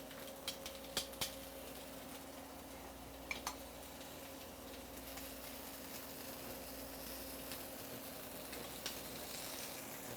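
Duck breast frying skin-side down in a pan, giving a steady, faint sizzle with a few small pops and ticks scattered through it.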